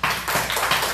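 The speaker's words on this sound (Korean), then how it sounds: "기왕에 온 거 박수로 환영합시다" An audience clapping to welcome a bride and guests, a brief dense burst of applause that sounds loud and close throughout.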